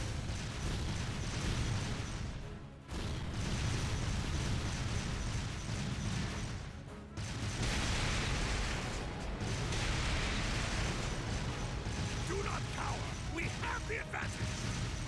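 An artillery barrage rolls on without a break in Trails of Cold Steel 2, a dense wall of explosions and mechanical clatter that briefly drops off twice. A voice sits faintly under the noise.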